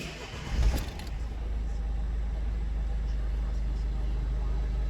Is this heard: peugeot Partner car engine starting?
yes